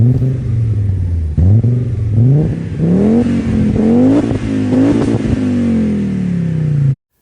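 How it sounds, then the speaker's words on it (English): A Fiat Coupe 20-valve turbocharged inline-five engine revs repeatedly, pitch climbing and dropping in several quick bursts before one long rising pull, loud and close with no talking. "This quirky little car is the Fiat Coupe 20 valve turbo."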